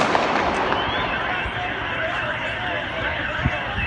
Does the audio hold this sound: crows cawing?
no